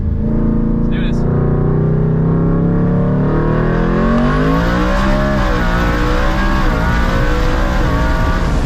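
A loud 1716-horsepower four-wheel-drive Ford F-150 engine revs up hard in second gear, its pitch climbing steadily through the gear as the truck accelerates, with a whine rising on top.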